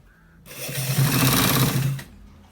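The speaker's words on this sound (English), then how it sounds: "So we are stitching it." A sewing machine stitches a shirt collar in one loud, continuous burst of rapid mechanical whirring lasting about a second and a half, then stops.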